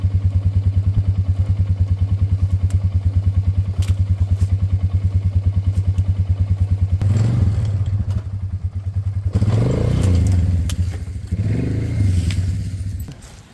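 A four-wheeler engine idles steadily and loudly, then surges with bursts of clatter and thumps as it strains to pull a landscaping shrub from the ground.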